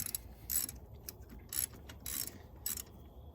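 Ratchet wrench backing out a starter bolt on a 2009-2013 Toyota Corolla, giving four or five short bursts of quick metallic clicking separated by brief pauses, faint and close with no talk.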